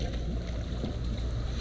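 A Brownie Third Lung dive compressor engine runs at max throttle, giving a steady, loud, rough roar with wind-like rumble throughout the short stretch and no voices.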